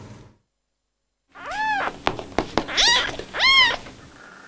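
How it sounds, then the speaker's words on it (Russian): Several small kittens mew repeatedly, each a short rising-and-falling cry, close and clear, with soft thumps and rustling in between. "Даже в теплых объятиях кормилицы котята не перестают мяукать."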